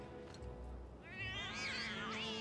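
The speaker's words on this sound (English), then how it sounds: "he lives with all the kitty cats" Several cats meow in the slums of Final Fantasy 7 Remake, a soft low mew first, then a brighter, rising cry that carries clearly over the quiet game ambience.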